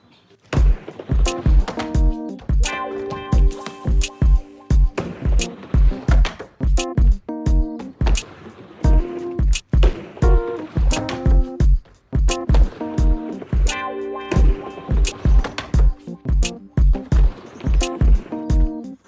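Skateboard runs back and forth on a mini ramp doing judo rock fakies, with repeated rolling wheel rumble and sharp deck and truck clacks landing in a steady rhythm, close and loud, with no talking.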